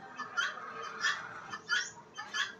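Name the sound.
chicken clucking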